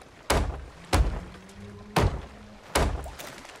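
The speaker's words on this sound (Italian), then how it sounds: "Subito da degli impatti dalle palle di cannone" Cannonballs strike in the pirate video game Sea of Thieves, four heavy booming thuds landing at irregular intervals, each with a short rumbling decay, loud and close with no talking.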